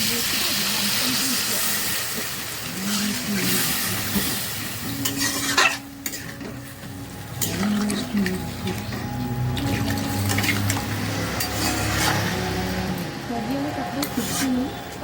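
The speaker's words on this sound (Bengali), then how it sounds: "জলটা দিয়ে দেবো।" Water poured into a hot pan of cooking potatoes hisses and sizzles with steam, followed by stirring and bubbling, while a person talks over the sound.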